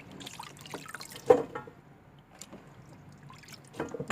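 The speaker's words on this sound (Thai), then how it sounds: "เอามันฝรั่งมาล้างก่อนนะคะ" Potatoes are washed in water, with soft sloshing, trickling and a few sharper splashes at irregular intervals, faint and close, with no talk.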